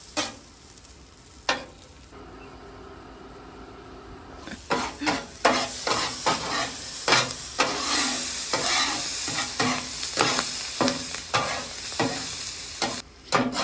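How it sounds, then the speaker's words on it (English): Butter cooks on a hot Blackstone griddle with a steady, loud sizzle close by, broken by repeated scraping and clinking of a metal spatula stirring across the flat top. "that butter's melted nicely. Just gonna allow that to keep cooking together"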